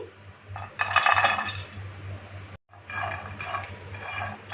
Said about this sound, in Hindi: इनको इस तरह से ड्राई रोस्ट करने से इसमें एक क्रंच आ जाएगा